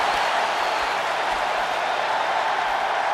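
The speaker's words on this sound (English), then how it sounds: "What a raucous crowd here tonight." Arena crowd in WWE 2K24 during an Undertaker versus Sting Hell in a Cell match, a dense, steady roar of cheering and applause that holds at one loud level throughout, with no talking.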